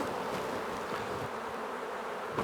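Honeybees buzz around an open 14 x 12 hive as frames are lifted during an inspection, a close, dense, steady hum with no voices over it.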